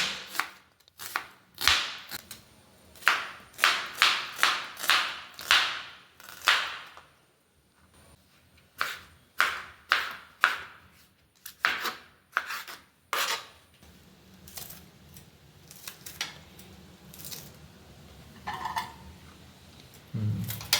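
Onions being chopped on a board with a knife for a fish roast: quick, close, crisp cuts in bursts, then a pause and a second, steadier run of chopping, with no talking.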